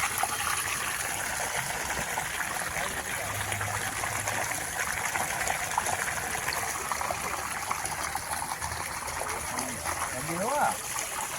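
Hot water flowing and trickling steadily on a farm, a continuous watery gush beneath people talking nearby.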